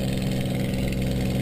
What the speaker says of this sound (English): pushing the throttle up to 2700 RPM